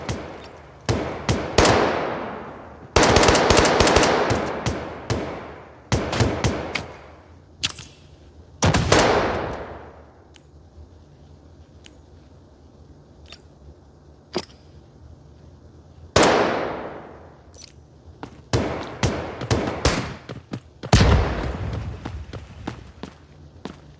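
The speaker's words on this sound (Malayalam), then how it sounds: "ഇതെവിടെ വെടി വരുന്നത്? ഇവിടുന്ന് വെടി ഉള്ളുണ്ട് കേട്ടോ." Gunfire in the mobile shooter Delta Force Mobile rings out in sharp, loud bursts, some single shots and some rapid volleys, with short quiet gaps between them.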